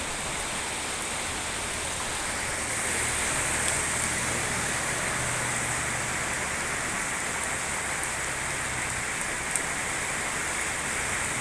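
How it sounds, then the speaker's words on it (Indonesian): Steady downpour of heavy rain at an Indonesian market, a thick continuous wash of falling water that swells slightly partway through, with no talking and only a faint low rumble beneath. "Hujan deras, apes ya."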